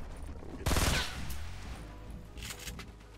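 A rapid burst of Fortnite gunfire rattles close and loud, followed by fainter scattered shots with game ambience under it.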